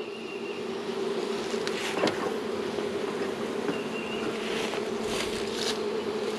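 Honey bees swarm in a newly opened beehive as its top is pulled off and smoked, making a dense, steady, close buzz that holds throughout with no voices.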